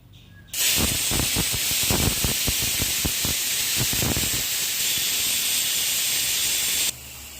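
Pressure cooking chickpeas with turmeric, chili powder, green chili and curry leaves: a sudden loud continuous hiss of escaping steam lasting several seconds with faint rattling pulses, cutting off abruptly, no voices.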